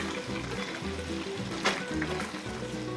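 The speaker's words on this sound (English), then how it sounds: "We are now going to be putting in our potatoes." Potatoes stirred into a sizzling pan, a soft crackle and hiss of frying beneath the scrape of stirring, with a brief louder burst midway.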